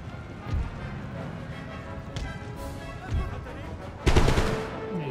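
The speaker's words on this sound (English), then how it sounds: "Yeah, they're gunning down that unit of militia." Musket volleys ring out in the video game Empire Total War as infantry fire on militia, scattered sharp cracks repeating every second or so over a low battle din, ending in a louder burst, with a voice talking quietly beneath.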